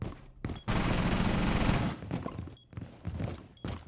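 Gunfire in Rainbow Six Siege bursts out in a sustained loud volley of rapid automatic fire, framed by shorter shots and footsteps before and after, with no talk.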